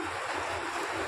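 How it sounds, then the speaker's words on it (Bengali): Heavy rain falls steadily outdoors as a broad, continuous wash of noise, fairly loud and unbroken, with no voices over it. "এত বৃষ্টির আওয়াজ হচ্ছে"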